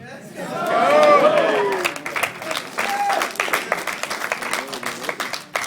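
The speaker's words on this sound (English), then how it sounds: "only a handful of people clap" Scattered clapping from a handful of audience members at a business talk, thin and uneven taps under someone speaking and a murmur of voices from the crowd.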